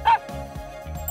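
A toy puppy gives a short electronic bark-like yip near the start, loud and close, followed by quieter low noise with no talking.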